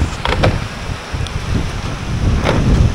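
Strong typhoon wind roaring and buffeting a house in San Pablo City, Laguna, loud and continuous, with rumbling gusts swelling and easing throughout and no talk.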